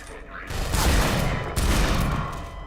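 Two heavy booming shots from a .357 Magnum revolver in Half-Life 2, the second about a second after the first, each leaving a long rumbling tail. A voice is heard faintly.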